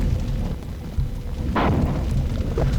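A juggernaut enemy in the video game Marathon 2: Durandal fires tracking missiles, heard as a heavy rumbling boom followed by a sharper whooshing launch burst and a smaller second blast, all loud and close, with no voices.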